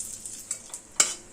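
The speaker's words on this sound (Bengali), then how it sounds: "মাছ ভাজা তুলে নিয়ে ওই তেলে জিরে, তেজপাতা, শুকনো লঙ্কা ফোড়ন দিয়ে দিলাম।" Cumin, bay leaf and dried chilli temper in hot oil left from frying fish, giving a soft sizzle under a few sharp spatula taps and scrapes, brief and close with no talking.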